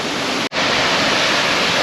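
A waterfall on a Lake District walk rushes in a loud, steady roar of falling water, broken only by a brief cut.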